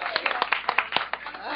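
Audience applause for the chief lead drummer at a drum circle closing ceremony, a quick run of sharp claps over about a second and a half, mixed with a voice speaking over it.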